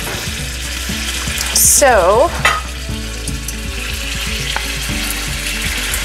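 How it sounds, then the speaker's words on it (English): Pork chops browning in a pan give a steady close sizzle, with a brief burst of louder hissing and a rising squeal early on, then faint clinks. Music plays underneath, and a voice says a single word. "Putting the pork chops in just to brown a little bit"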